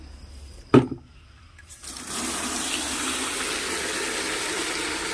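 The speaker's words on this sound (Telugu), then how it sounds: "వాటర్ పట్టుకుంటానండి" After a sharp knock, water starts gushing steadily from a tap, a continuous rushing stream that fills the rest of the clip.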